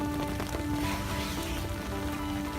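Rain patters steadily on nearby surfaces during a small outdoor trimming job, a dense, even hiss of drops with a faint background hum and no talking.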